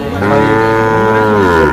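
A calf at a crowded cattle market gives one loud, sustained moo lasting nearly two seconds, close by and drowning out the background.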